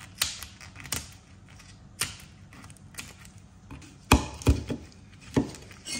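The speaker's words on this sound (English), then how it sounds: "Use your scissors, cut through the middle," Sharp cracking snips of kitchen scissors cutting through a lobster shell, several separate crunchy clicks spread over a few seconds, close and fairly loud with no talking.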